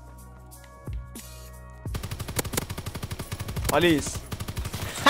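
Rapid automatic gunfire from an assault rifle in a shooter video game rattles off in quick bursts after a couple of isolated shots, while someone talks over it.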